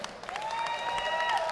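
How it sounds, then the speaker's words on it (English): Crowd applause breaks out at a Fight Circus bare-knuckle open-weight MMA championship event, a steady dense wash of clapping and cheering that holds evenly loud throughout, with a few faint whistles rising over it. "another round of applause for both of them."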